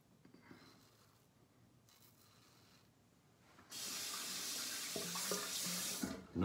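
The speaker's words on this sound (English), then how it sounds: "No clogging, you just rinse it." A safety razor is rinsed under running tap water; after quiet handling, the faucet bursts on loudly partway through and gushes steadily at close range, with no talking.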